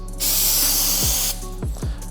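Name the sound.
spraying glue accelerator onto a surface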